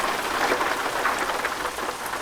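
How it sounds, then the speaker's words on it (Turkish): Steady, dense rain hisses in Euro Truck Simulator 2, falling evenly across the whole stretch with a soft patter of drops and no talk over it. "Güzel bir yağmur başladı."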